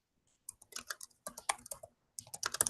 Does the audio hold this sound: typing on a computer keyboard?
yes